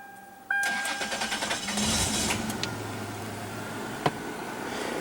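A 2000 Toyota 4Runner Limited's 3.4 liter V6 with 228,000 miles turns over and catches, then settles into a steady running hum with a few higher whirring tones, heard from nearby without talking.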